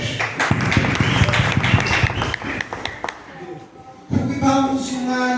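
A church congregation bursts into loud, rapid applause that fades after several seconds, giving way to voices and sustained tonal sound.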